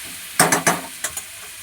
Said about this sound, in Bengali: একটু নুন, একটু হলুদ দিয়ে এটাকে ভাজবো।